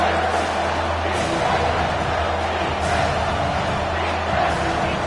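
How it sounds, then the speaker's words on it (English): A packed football stadium crowd roars on a third-down play, a dense sustained wall of cheering with scattered shouts and swells across several seconds. "this crowd is tearing the lid off this place"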